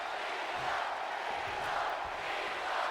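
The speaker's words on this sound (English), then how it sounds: "The fans are cheering for Cena here." Arena crowd in the WWE 2K20 wrestling game during a Royal Rumble match, a steady wash of cheering and roaring held at an even level for a few seconds.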